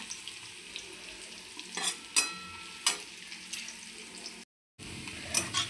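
Curry leaves, cumin and mustard seeds sizzling and crackling in hot oil, a steady frying hiss broken by sharp pops and spatters, close and fairly quiet.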